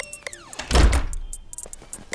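A door shuts with a single solid thunk in the middle of a movie scene, surrounded by faint background sounds and music.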